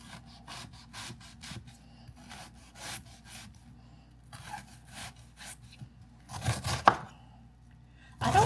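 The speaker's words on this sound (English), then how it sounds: "I have about 5 ounces of yellow onion. And I'm just going to chop them" Knife chopping yellow onion on a board in steady quick strokes, close and fairly quiet, with a few louder clustered chops near the end.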